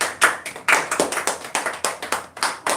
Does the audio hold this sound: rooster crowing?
no